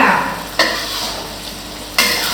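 Pork stir-fried for southern Thai khua mu sizzles steadily in a hot pan, with two sharp bursts of louder frying as the meat is stirred and turned, close and continuous throughout.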